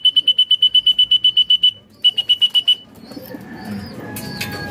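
Pigeons in a loft, with a fast run of sharp, high electronic-sounding chirps or beeps in two bursts, followed by quieter rustling, fluttering and faint bird calls close by.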